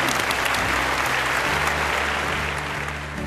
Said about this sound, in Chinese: 今天最后让我们把掌声送给赵大哥